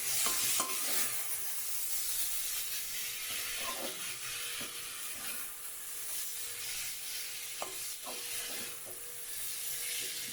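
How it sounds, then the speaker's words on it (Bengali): Flattened rice (chira) being stirred in a cooking pan, a steady dry scraping and rustling with a faint sizzle underneath and occasional light clicks of the utensil against the pan, close and continuous with no talk. "তো চিড়ে দিয়ে আমি ভালো করে নাড়াচাড়া করছি।"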